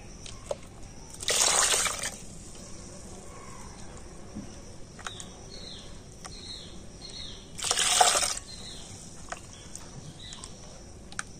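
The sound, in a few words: pouring water into ground nut paste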